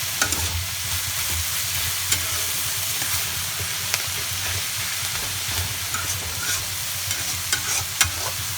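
Betho saag greens stirred while frying in a pan, a loud continuous sizzle and hiss with a low hum beneath and occasional light clicks of the utensil against the pan.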